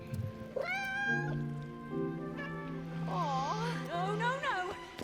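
Cat meowing in the video game Split Fiction, a series of loud, close, drawn-out meows and wavering cries in a row, with game sounds underneath.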